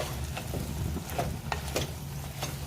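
Drumstick pods, brinjal and potatoes sauté in a spicy masala, giving a steady close sizzle with intermittent scraping and stirring strokes from a spatula in the pan.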